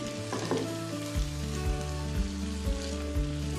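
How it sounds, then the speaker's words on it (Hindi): Peas tipped into a pan of vegetable korma and stirred, with a steady close sizzle of frying and repeated scraping stirs through the pan, with no talk. "अब इसके अंदर मटर डाल देंगे। मिक्स करेंगे"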